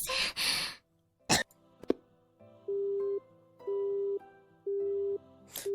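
A girl has a coughing fit: two harsh coughs, then a few short throat sounds, followed by three evenly spaced phone tones.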